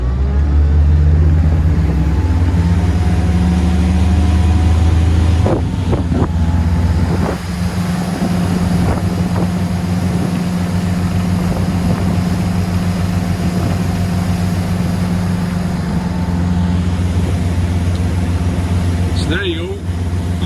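A Jeanneau Leader 805 motorboat engine runs loud and steady as it powers up onto the plane, with a continuous droning hum and rushing water and wind noise throughout.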